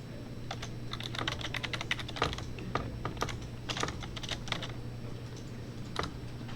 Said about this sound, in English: so I type text behind it, dot text, and a semicolon to end that line